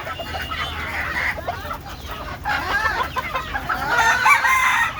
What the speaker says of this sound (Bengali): মুরগিগুলো ছাড়লো